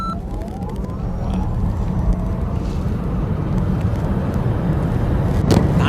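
A Tesla Model S Plaid launches down a quarter-mile run, its electric drive giving a continuous loud rushing roar with broad road and wind noise that holds steady and swells slightly toward the end.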